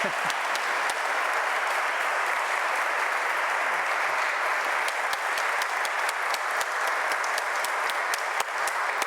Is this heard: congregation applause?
yes